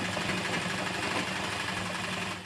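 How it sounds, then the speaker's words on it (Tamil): A sewing machine runs a long straight stitch during a tailoring lesson, giving a continuous close mechanical whirr at even speed that stops abruptly at the end. "நேராக மடித்து பிடிச்சி ஃபுல்லாக நேராக தையலை ஓட்டி வெளியே எடுத்துருங்க"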